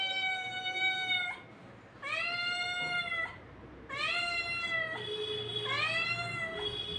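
A cat meows four times in long, drawn-out calls with short pauses between them, loud and close, with no talking.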